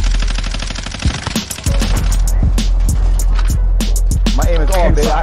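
Call of Duty Warzone gunfire, loud rapid bursts of automatic shots cracking in quick sequence after a short lull, mixed with game noise and some voices.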